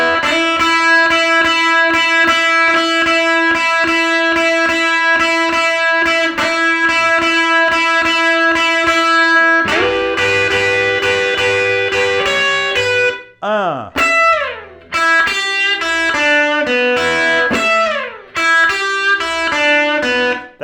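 Distorted electric guitar lick, bright sustained notes and bends giving way to quick slides and a root note on the first string, loud and played alone.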